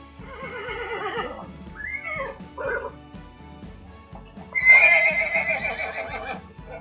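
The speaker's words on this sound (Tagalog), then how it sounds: "It's a horse! It's a horse!" A pony at a wildlife park neighs loudly twice, the second whinny longer and more shrill, with a low rumble in the background and no talking.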